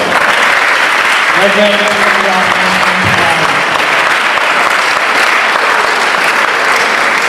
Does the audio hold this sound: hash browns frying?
no